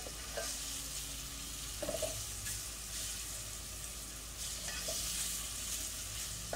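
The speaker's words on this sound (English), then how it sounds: "to kind of like saute the fish" Salmon sautés in a hot frying pan with a steady, soft sizzle and a few stirring scrapes, close and without talking.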